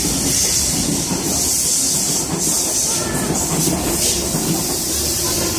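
A Sydney Tangara electric train passes close by, a loud, steady roar of wheels and motors with rhythmic rail clatter and hiss lasting the whole stretch, no voices.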